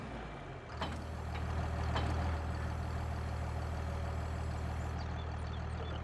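A tractor engine idles and rumbles in Farming Simulator, a steady low drone with a couple of sharp clanks early on, continuous and close without speech.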